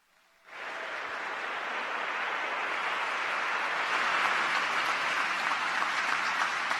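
An audience at a citizenship ceremony breaks into applause, a sudden swell of many hands clapping that holds steady and dense for several seconds.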